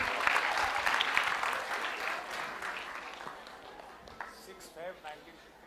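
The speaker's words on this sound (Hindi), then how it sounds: "तालियां जोरों से बजनी चाहिए," Loud audience applause at a Dev Anand quiz show, dense and sustained clapping from a crowd that gradually thins and fades toward the end, with voices mixed in.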